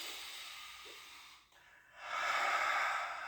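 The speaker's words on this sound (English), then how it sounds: "take a deep breath" A single deep breath is taken during a qi gong exercise: a soft breathy exhale fades away, a brief pause follows, then a strong, airy inhalation through the nose, close and clear with no talking.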